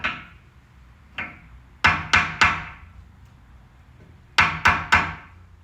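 Sharp hammer taps on metal ring out in small groups: a single tap, a quick run of three, then another run of three, clear against a quiet background.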